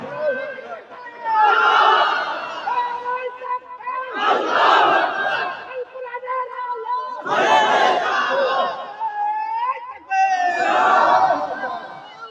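A crowd at a Muslim religious gathering chants slogans with raised hands in four loud, rhythmic bursts of massed voices, each separated by brief lulls.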